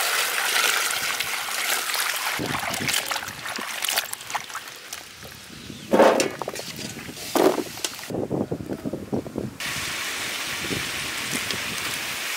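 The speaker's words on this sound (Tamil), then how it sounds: "தண்ணி ஊத்திக்கலாம்." Water poured into a cooking pot of banana and country chicken curry at a village-style outdoor cooking setup, a rushing stream with a few louder splashes, close and continuous.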